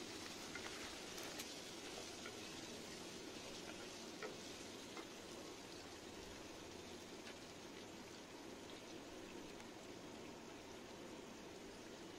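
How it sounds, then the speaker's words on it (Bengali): Diced potato frying in a pan over a high gas flame gives a steady, dense sizzle with faint crackles, constant and fairly quiet throughout, without speech. "একটা বড় সাইজের আলু, সেটাকে ডুমো করে কেটে নিয়েছিলাম, সেটাকে আগে একটু ভেজে নিচ্ছি"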